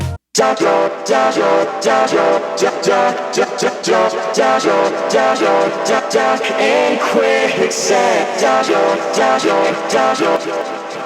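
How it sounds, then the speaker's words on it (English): A music passage where chopped vocal snippets stutter and repeat in quick rhythmic bursts over a full, loud mix, with no talking. "I made this vocal glitch that repeats the last line of the chorus"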